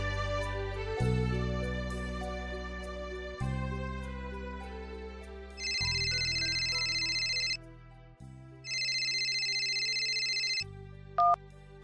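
A mobile phone ringtone for an incoming call plays as a repeating electronic melody, steady and fairly close, with alternating low tones and brighter high chimes and no talking over it.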